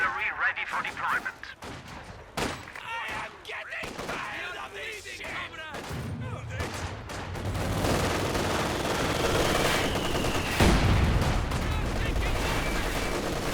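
Machine gun fire in a Company of Heroes 2 battle, dense rattling bursts mixed with other gunfire and explosions, continuous and loud, under a commentator's voice.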